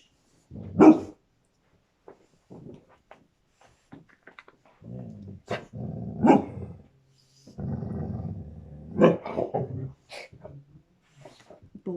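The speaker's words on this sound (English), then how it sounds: "Bored dog." A dog in a ceramics studio gives a few sharp barks scattered between stretches of low growling and rumbling, close by and uneven in rhythm, with quiet pauses between bursts.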